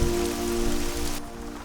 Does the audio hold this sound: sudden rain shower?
yes